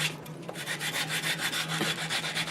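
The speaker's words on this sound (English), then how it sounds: "you take your sandpaper and your wood, put it on, and you make like this" Sandpaper rubs back and forth across a piece of wood for a coaster in quick, even strokes, a close, soft, gritty swishing repeated steadily with no voices.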